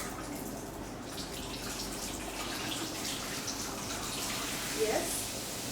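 Water runs steadily from a solar shower column mixer with a continuous hiss and a few brief splashes near the end.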